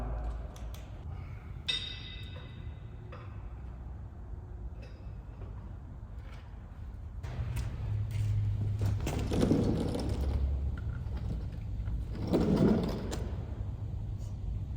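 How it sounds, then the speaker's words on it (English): The engine of a Mazda RX7 barn find being turned over by hand, producing low mechanical grinding and whirring in slow, uneven swells, with a brief metallic clank early on, heard close and without talk. "I'm going to try turning over the motor a couple times with my hand."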